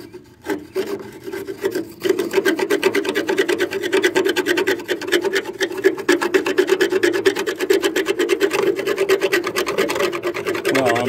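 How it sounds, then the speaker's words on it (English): A screwdriver scrapes paint off the underside of a Sears Suburban 48-inch mower deck in quick, rhythmic strokes close by. A few scattered scrapes come first, then steady rasping settles in and continues to the end. "I'm scratching off the paint with the freaking screwdriver"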